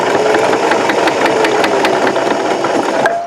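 A weaker domestic sewing machine driven by foot pedal labors through nine layers of denim at a jeans hem intersection, giving a steady, loud mechanical whir with rapid needle clatter and rattle that strains, then eases near the end, with no voices.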